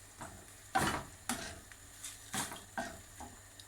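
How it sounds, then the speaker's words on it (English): A spoon stirs onions and other food in a pan for cannelloni, with soft rhythmic scraping strokes roughly every half second over a faint background sizzle. "Stir."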